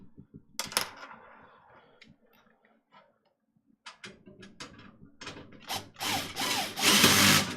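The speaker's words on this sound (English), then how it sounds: "the drill is much better at this than my screwdriver is." A power drill whirs in short bursts driving screws into PC parts during a computer build, with clicks and clatter between runs and a louder, sustained whine at the end.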